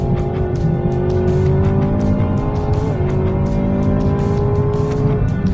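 A Chevrolet Camaro ZL1 1LE with an automatic transmission brakes hard from over 140 mph, its loud, close engine droning and shifting down with some tire noise, with no talking.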